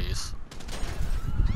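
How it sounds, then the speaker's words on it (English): Police gunfire in GTA V, a clattering run of sharp rapid shots in close succession, mixed with other game noise. "You got cops shooting at your ears."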